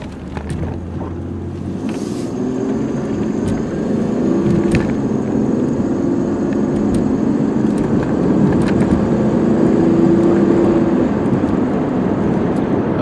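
Steady low engine drone and road rumble from a 1995 Oldsmobile Cutlass Ciera with automatic overdrive transmission, heard from inside while cruising, with faint wind noise and occasional light rattles, no talking.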